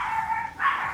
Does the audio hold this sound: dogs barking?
yes